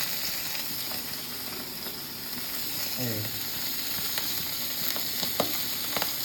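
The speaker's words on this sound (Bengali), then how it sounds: "এই যে মাছ কিন্তু এবার ভাজতে চলে গেল" Bata fish fries in oil with a steady, dense sizzling hiss throughout, a few faint clicks scattered over it and a brief voice in the background partway through.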